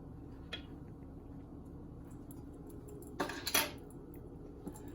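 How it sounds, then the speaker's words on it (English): Peaches being mixed with sugar and vanilla in a bowl for a Southern peach cobbler, quiet with a few soft utensil scrapes and clinks against the bowl, including a brief cluster of louder knocks. "we're going to give this a good mix just to get all of our peaches coated with the sugar"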